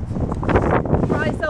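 Strong wind buffets an outdoor setting near a neighbor's yard with leaf piles, roaring across the microphone in gusts while a person talks over it.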